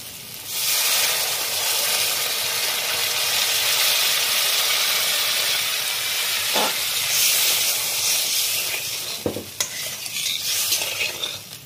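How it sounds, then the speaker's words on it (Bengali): Water added to fried spice paste in a pan for a Bengali fish curry with boroli river fish, raising a steady loud hiss and sizzle with occasional stirring clatter, no talk. "এবারে আমি জল দিয়ে দেবো পরিমাণ মতো"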